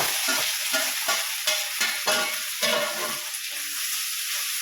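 Peas, sweet corn, carrot and capsicum with onion and green chilli stir-frying in a kadai, a loud sizzle broken by repeated scraping stirs at an uneven rhythm.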